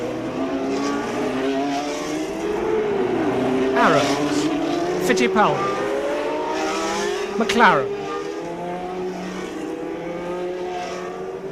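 Engines of 1981 Formula 1 cars rumble and whine as they roll to the grid, several cars passing close with rising and falling tones, under steady commentary.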